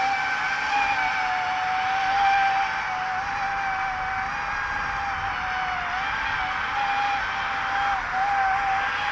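An SG F35 VTOL tilt-rotor drone flies with a continuous high-pitched whine of its motors, steady and fairly loud throughout, wavering slightly in pitch as it holds in the air outdoors.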